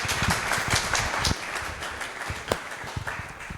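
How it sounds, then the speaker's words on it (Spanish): A live audience claps for participants at a Spanish-language talk on the language of cinema, steady applause with scattered sharper hand claps throughout, fairly close and moderately loud, with no speech over it. "un fuerte aplauso para ellos"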